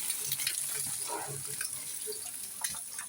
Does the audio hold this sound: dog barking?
no